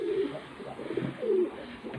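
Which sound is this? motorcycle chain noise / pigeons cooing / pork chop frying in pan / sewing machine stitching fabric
pigeons cooing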